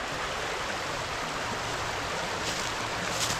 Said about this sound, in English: So this is the Woonasquatucket River right here.